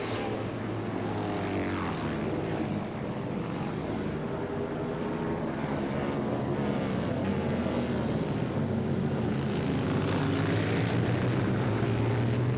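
Racing motorcycles, including a Ducati 900, roar past on a 1984 street circuit race, a continuous loud engine drone that swells and fades as the bikes pass, with no clear talk over it.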